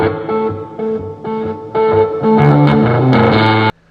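Rock music with heavy distorted guitar plays loud through the Meridian surround sound system of a 2018 Land Rover Discovery, punchy chords driving on before cutting off abruptly near the end.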